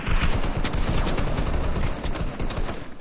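Dense, rapid gunfire from a Fortnite match fills the whole stretch, with loud overlapping automatic bursts and individual shots crackling without pause.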